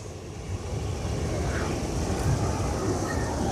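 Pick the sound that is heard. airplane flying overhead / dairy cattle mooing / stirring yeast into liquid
airplane flying overhead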